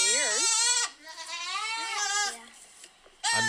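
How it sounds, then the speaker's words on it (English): A goat gives several wavering, nasal bleats, loud and close, with short pauses between calls. "it's a goat"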